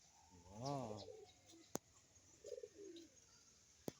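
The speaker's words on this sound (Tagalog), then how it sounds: "It's pigeon." A pigeon coos softly in a park in Zamboanga City, Philippines, giving one rolling, throaty call, with a few faint chirps and sharp clicks afterward against a quiet outdoor background.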